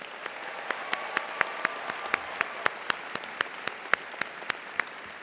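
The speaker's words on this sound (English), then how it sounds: "Let's give them a round of applause." Applause for the Bowie High School graduating class of 2016 at their graduation ceremony, heard as a steady crowd wash with regular sharp claps standing out, moderately distant and sustained throughout.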